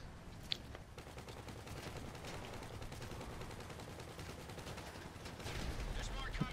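Explosive grenade-launcher fire from a vehicle in the GTA Online Doomsday heist 'The Barrage', with repeated thumping blasts and gunfire sustained throughout, swelling louder near the end, with voices talking over the chaos.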